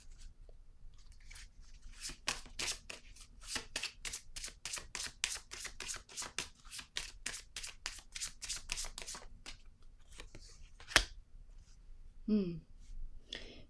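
Tarot-style cards shuffled in a rapid, even riffle of crisp snaps during a card reading, followed by a single sharp card slap as one is laid down on a table, then a short rustle.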